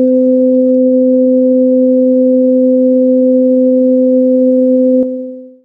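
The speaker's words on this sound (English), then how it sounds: "you hear the subtle beat note between the two tones as it changes" Two steady sine tones played together with a shifting phase difference, a pure loud hum with a faint harmonic overtone, holding unchanged for about five seconds before ending with a click and fading out.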